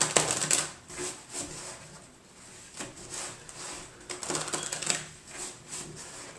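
Several bursts of playing cards being riffled and shuffled close by, crisp papery flutters separated by brief pauses, with no one speaking.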